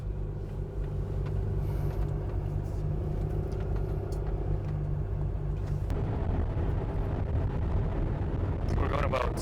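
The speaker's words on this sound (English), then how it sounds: "You can hear the wind noise pretty good coming through my door" Wind roars through the driver's door of a Ram 5500 Class C RV cruising at about 77 mph in gusty crosswinds, a steady loud whoosh layered over a deep road and engine rumble inside the cab.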